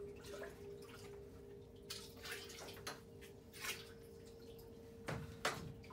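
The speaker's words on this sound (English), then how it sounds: "you're gonna fill up your container with water" Water runs into a hydroponics container as a soft, steady stream with occasional splashes and drips, over a constant low electrical hum.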